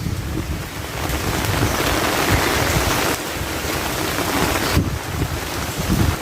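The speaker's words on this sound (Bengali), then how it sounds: "বৃষ্টি বেড়েই যাচ্ছে।" Heavy monsoon rain pours down steadily, a dense, loud hiss of water on surfaces close by, unbroken for the whole stretch.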